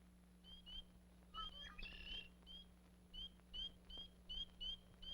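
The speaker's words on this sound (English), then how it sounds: "A marsh wren and a blackbird add to the spring chorus." A marsh wren and a blackbird sing in a spring chorus, with short, high, repeated chirps and trills coming in quick bursts, fairly faint against a steady low hum.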